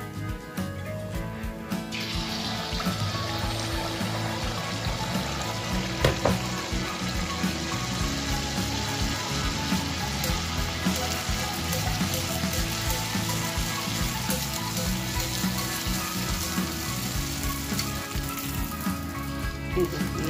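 Puaa, a sweet fritter, frying in oil, giving a steady close dense sizzle with bubbling crackle that runs unbroken and fairly loud throughout.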